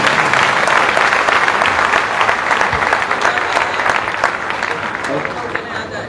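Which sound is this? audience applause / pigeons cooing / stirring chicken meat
audience applause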